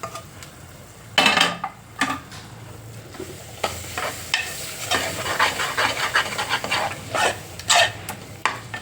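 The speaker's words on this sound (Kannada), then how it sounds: "ಕರ್ಬೇವಿನ ಸೊಪ್ಪು ಒಗ್ಗರಣೆಗೆ ಹಾಕಿರೋದು." Curry leaves and sesame seeds stirred into a hot tempering in a pan for puliyogare gojju, with a spoon repeatedly scraping and clinking against the pan over a steady low sizzle, close up.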